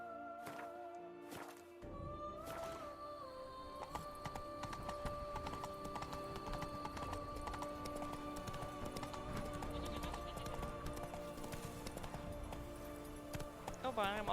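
Horse galloping in The Witcher 3: Blood and Wine, a rapid steady clip-clop of hooves running throughout under game music and ambient tones, starting after a short quiet opening.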